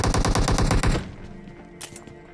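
A rapid burst of automatic gunfire in a video game, about a dozen loud, evenly spaced shots that stop abruptly and leave a fading echo with a few faint clatters afterward.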